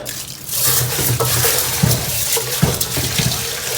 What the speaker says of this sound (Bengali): এখন এগুলো ভালো করে ধুয়ে নেব